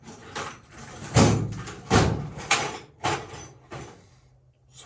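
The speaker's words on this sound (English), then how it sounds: "See if I can find one of Steve's punches in his mess of drawers" Workshop drawers slide and bang open and shut several times in a quick, uneven series at close range during a search for a punch.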